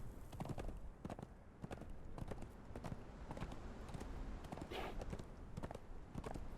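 A horse in Conan Exiles gallops fast downhill, its hooves striking in a quick, steady clip-clop rhythm, loud and close over a constant background hiss.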